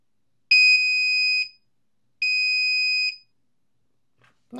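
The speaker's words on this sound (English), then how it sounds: "And now that that's all connected, let's see how it sounds." A 5-volt active buzzer wired for a Traxxas Rustler RC car sounds two steady, piercing electronic tones of about a second each, separated by a short pause, loud and near.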